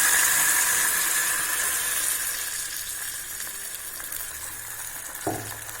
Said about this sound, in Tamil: இப்போ நம்ம புளி கரைச்சி வச்சுருக்கோம்ல, அதை ஊற்றிடலாம்